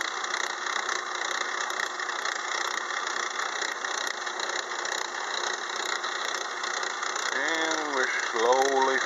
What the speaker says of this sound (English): Once the cutter gets fully engaged with the gear blank, it quiets down quite a bit